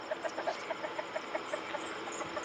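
A pure bantam chicken clucks in a steady, quick rhythm of short repeated notes over a constant background hum, moderately close with no voices.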